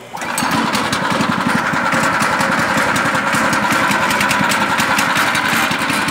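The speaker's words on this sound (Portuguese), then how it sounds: "e puxamos a cordinha para dar partida no motor" A small gasoline engine on a Motorssauro Dino kit car catches after a pull-cord start and settles into a steady, loud, buzzy run close by.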